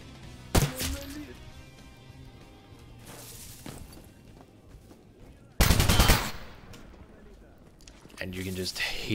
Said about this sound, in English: you can just hear from the sound of the gunfire